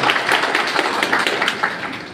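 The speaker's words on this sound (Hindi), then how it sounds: "हम चाहें एक बार जोरदार तालियों से उनका स्वागत" Applause at a National Consumer Day function in Singrauli welcoming the chief guest: a dense, even patter of many hands clapping together, fairly loud and continuous throughout the short stretch.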